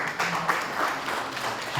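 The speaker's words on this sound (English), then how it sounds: "Please clap for her." A crowd at a policy workshop claps steadily in a brief burst of applause, moderately loud and sustained throughout.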